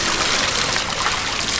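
Water runs and splashes steadily over a large glass trevally fish as it is washed outdoors in a village, a continuous close, full gushing sound.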